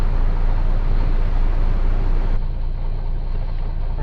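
Neoplan Starliner bus engine from a Euro Truck Simulator 2 mod, a loud, deep rumbling drone that drops to a more muffled tone partway through, with no talk.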